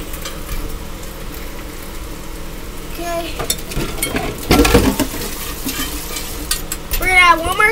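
Food cooking in a pan, with layers of cheese being added, sizzles steadily throughout, with louder stirring scrapes near the middle and end and occasional utensil clinks.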